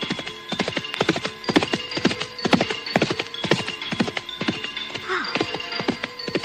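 Horse-drawn cart moving along, hooves clip-clopping in a steady, rapid rhythm, loud and close, with a brief whinny-like call near the end and no talk.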